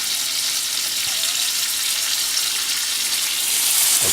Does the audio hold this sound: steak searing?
yes